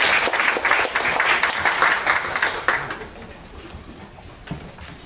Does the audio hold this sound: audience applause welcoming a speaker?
yes